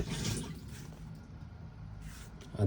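Flush fluid drains from a motorhome toilet bowl into the cassette in a Bessacarr 745 bathroom, a soft trickling and gurgling wash of water that runs for a couple of seconds before a louder clunk at the end.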